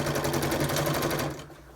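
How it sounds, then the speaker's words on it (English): A sewing machine runs in a fast, steady rhythmic burst stitching a seam on a cloth face mask, close and clear, then stops abruptly near the end with no talking. "You're going to stitch about a 1/2 inch seam allowance."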